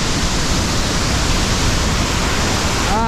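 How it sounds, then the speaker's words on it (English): Seljalandsfoss waterfall in Iceland roars as a steady, dense wash of falling water heard up close from the path right beside the spray, loud and unbroken throughout. "There's no staying dry on this waterfall."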